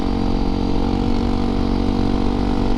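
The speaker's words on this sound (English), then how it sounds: "Alright, DRZ 400. Oh, this sounds like a beast." A Suzuki DRZ 400 dual sport motorcycle engine runs steadily, a loud, close, rumbling thump with a throaty single-cylinder character and no break.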